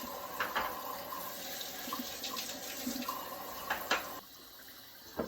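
Cool water runs steadily from a kitchen tap to rinse water kefir grains in a jar, a soft continuous splashing stream with small splatters, then quieting slightly near the end.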